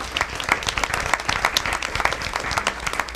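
Audience applause for high school students at a school district board meeting, a sustained patter of many hands clapping in a room, steady and moderately loud throughout.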